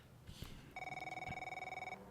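A phone rings in F1 23, a clean electronic trill of rapid even pulses lasting just over a second, following a faint thud and soft background noise.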